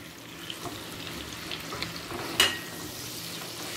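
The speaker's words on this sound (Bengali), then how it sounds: "পনিরটা তেলের সাথে হালকা লাল করে ভেজে নেব।" Paneer frying in melted ghee and oil, a quiet continuous sizzle with faint stirring and one sharper clink or splash partway through, no speech.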